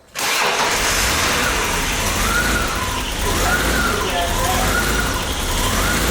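BMW E34 barn find catches and starts abruptly, then settles into a loud, rough, continuous idle that stays up close and uninterrupted for several seconds.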